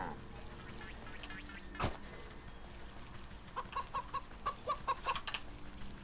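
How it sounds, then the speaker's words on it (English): A video game chicken clucks from a farmyard in Wytchwood, a run of short, even clucks rising from a steady low background and growing busier toward the end. "You sound like a chicken."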